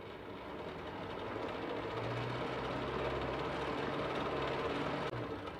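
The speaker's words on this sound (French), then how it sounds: "Je vais continuer à pétrir mais en vitesse 1." A stand mixer kneads waffle batter with milk at its lowest speed, a steady close mechanical hum and whir that runs evenly without a break, then gives a brief clunk near the end, with no voices.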